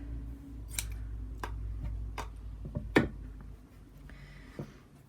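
Scissors snip through scrap lace and fabric pieces, a handful of sharp separate cuts spread unevenly over a low steady room hum, fairly close and moderately loud, with no talking.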